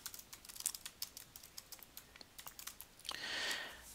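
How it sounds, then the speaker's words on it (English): Text is typed on a computer keyboard, with a quick, uneven run of light key clicks heard close and fairly quiet, ending in a short soft rustle, with no voices. "I'm now going to type in the text I want."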